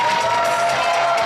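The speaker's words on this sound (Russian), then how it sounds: "Итак, под ваши бурные аплодисменты" A large audience at a student festival awards gala claps and cheers loudly, a brief dense burst of applause with shouts and whoops, steady and close.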